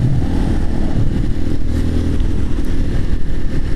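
A motorcycle rides out on a sunny day, its engine loud and close in a continuous rumbling drone with some wind and road noise, without talk.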